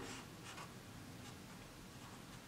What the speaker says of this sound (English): let me draw that in for you